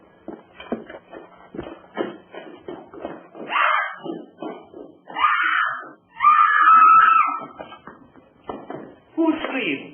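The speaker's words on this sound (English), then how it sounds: "Who screamed?" A woman screams several times, loud and drawn out, amid footsteps, shuffling and bumps in an old 1933 film scene.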